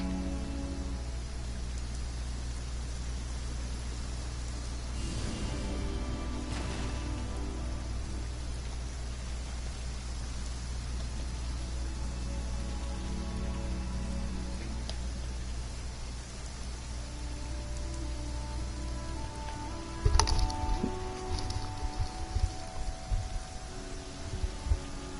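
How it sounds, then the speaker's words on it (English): Steady rain falls across an open outdoor area in the video game Genshin Impact, a dense, constant hiss that holds for about twenty seconds before louder scattered game sounds break in near the end. "I'm gonna wait for the rain to stop because I want this good view while we're talking."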